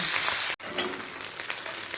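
Three pomfret fish fry together in hot oil, a dense steady sizzle and crackle close up, broken by a brief silent gap before the bubbling resumes, with no voices.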